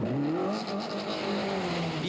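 A Seat Ibiza Kit Car rally car at a 1999 rally, its engine holding a loud, close, high revving note with shifting pitch and faint tire noise.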